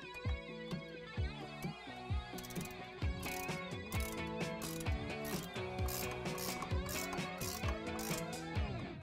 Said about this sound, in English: I'm gonna use a 16 millimeter ratcheting wrench